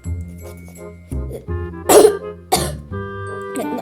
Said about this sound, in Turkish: ben e, önce boğazımı temizlemeyi seviyorum